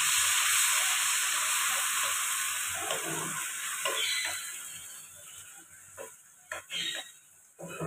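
Onion, tomato, ginger and garlic paste hits a hot pan with a loud hissing sizzle that fades over several seconds, broken by a few scraping stirs near the end.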